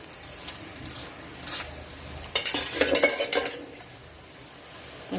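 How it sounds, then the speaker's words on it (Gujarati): An aloo paratha flipped on a hot pan with oil brushed on, giving a soft sizzle with scraping and clinking bursts from a spatula and pan, loudest around the middle, then settling to a quiet hiss. "હવે આપણે બીજી બાજુ પલટાઈને શેકી લઈએ અને બીજી બાજુ પણ આપણે તેલ"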